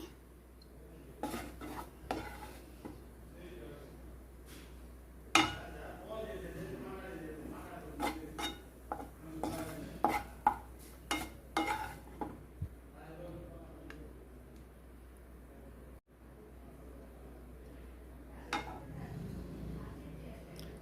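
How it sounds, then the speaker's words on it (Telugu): Egg rice scooped from a pan into a serving bowl, with repeated metallic clinks and scrapes of a utensil against cookware, close but fairly quiet, and a voice talking intermittently throughout. "సో దీన్నంతా ఇలా సర్వింగ్ బౌల్లోకి తీసేసుకుందాం."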